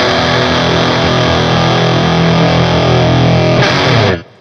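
Electric guitar through a fuzz effect pedal holds a thick, swirling, heavily distorted tone at steady loudness, then cuts off abruptly near the end.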